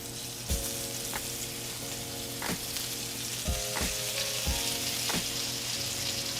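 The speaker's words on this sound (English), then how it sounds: "I can go ahead and drop in the pork chops" Pork chops dropped into a hot pan fry with a steady loud sizzle, punctuated by several sharp clanks and scrapes of the pan and utensil, close by and with no talking.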